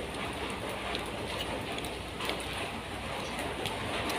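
Steady, dense downpour hissing continuously, with occasional louder drips and splashes standing out against the constant wash.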